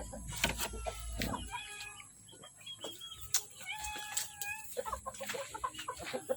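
Tanaka gamefowl in a small backyard, with hens clucking in short bursts and roosters giving crowing calls, fairly close and clear, several birds vocalizing over about six seconds; no talking.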